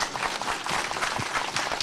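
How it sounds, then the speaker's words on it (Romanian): An audience at a Christmas concert in Bolii Cave applauds a singer, a steady wash of many hands clapping at moderate distance, fairly faint, with no talking. "Haideți să o aplaudăm,"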